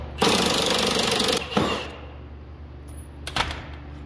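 Loud impact wrench bursts removing the front bolts from a loose speed track, a long buzzing run followed by a shorter one and a brief final burst, with a steady engine-like hum beneath.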